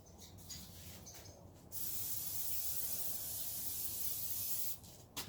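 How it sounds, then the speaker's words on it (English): Short hissy bursts of an aerosol can of cooking spray onto bunny molds, then a long steady spray that runs for several seconds before stopping, all close by. "bunny molds that I am going to spray with kitchen spray"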